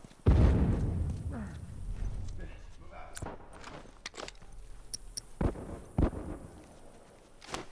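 A loud, close explosion goes off in The Last Of Us Remastered, then rumbles and fades. Scattered thumps, footsteps and clicks follow, and a voice speaks quietly underneath.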